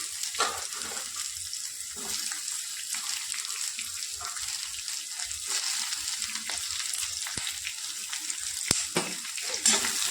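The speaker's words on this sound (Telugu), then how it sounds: "అందులోకే బీరకాయ ముక్కలు కట్ చేసుకున్న ముక్కలు వేసుకొని వేయించుకోవాలి." Ridge gourd pieces tossed in with peanuts already frying in a pan: a continuous moderate sizzle with small pops and occasional stirring scrapes, no talk.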